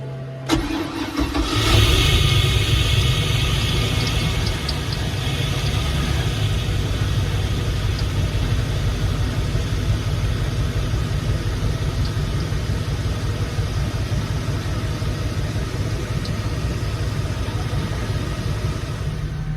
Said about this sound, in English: It is on a cold start. First fire in about a week or so. Idling perfect.